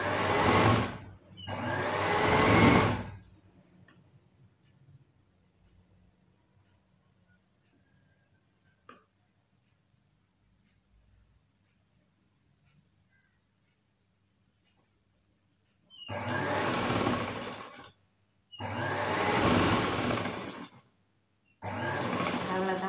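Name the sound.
sewing machine stitching blouse shoulder seam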